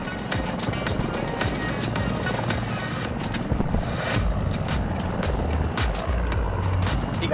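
A steady video game helicopter rotor drone with engine rumble fills the scene continuously, loud and close, with occasional thumps over it.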